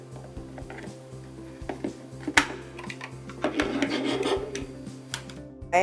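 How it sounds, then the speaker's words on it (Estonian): A screwdriver prying open the plastic casing of a G4S motion sensor, with scraping and rasping scratches and small clicks building in the second half, close up and alone. "Ava liikumisanduri korpus, kasutades kruvikeerajat."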